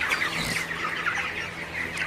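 A crowd of broiler chickens, about 26 days old, chirps and cheeps continuously in a poultry shed, overlapping high calls filling the enclosed space, with a low steady hum beneath.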